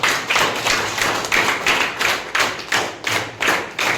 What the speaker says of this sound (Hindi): बहुत अच्छा, ताली बजा दो एक बार